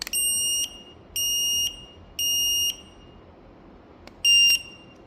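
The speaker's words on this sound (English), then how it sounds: "It's just a small smoke alarm by Fire Pro." A small Fire Pro FP522V smoke alarm sounds four loud, piercing electronic beeps, the first three long and evenly spaced, the last shorter after a pause, with no talk.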